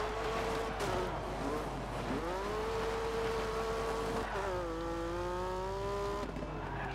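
A rally car in the Colin McRae Dirt 2 video game slides under a tap of the handbrake. The engine note wavers and bends through the skid over a constant low game drone, moderately quiet, with no talk.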